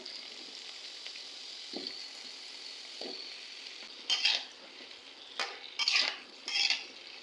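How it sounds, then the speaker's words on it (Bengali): Potatoes frying lightly in a little oil in a pan, a soft steady sizzle with a few short bursts of stirring and scraping near the end. "প্রথমে আলুটা হালকা তেলে ভেজে নিব।"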